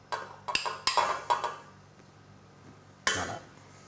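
About 100 g of butter goes into a saucepan with a metal utensil: a quick cluster of sharp clinks and taps, a short pause, then one more bright knock against the pan. The sounds are close and clear.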